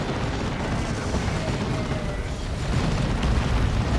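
An orbital bombardment in the Warhammer 40k strategy game Dawn of War 2 rumbles as a dense, continuous explosive roar, loud and sustained throughout a 3v3 match.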